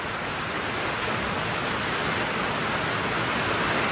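Steady rain pours down outdoors around a 1972 Porsche 911T being stripped of trim, a dense unbroken hiss that fills the whole stretch at an even, loud level.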